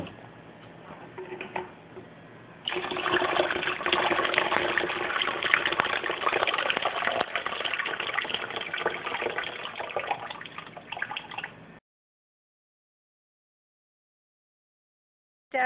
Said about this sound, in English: This is filtered water, so we're just going to rinse this out just so we get the last little bit of flavor out of the tea.